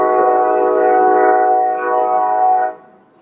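A train's loud, sustained multi-tone horn blares near an RV parking spot, holding steady for nearly three seconds before cutting off, leaving a low rumble.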